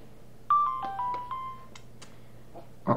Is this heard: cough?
no